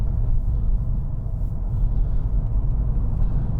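A 2016 Volvo V40 Cross Country D2 with a six-speed manual gearbox cruises on tarmac, giving a steady low cabin rumble of road and engine noise with no voices.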